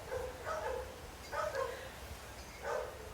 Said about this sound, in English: The neighbor's dog has a few words to say. You might hear that.